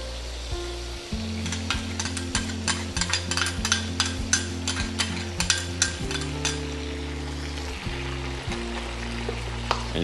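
Ketchup fries in a little oil for family-style tomato eggs, a close, steady sizzle with frequent sharp spatters and light stirring clicks, no voices.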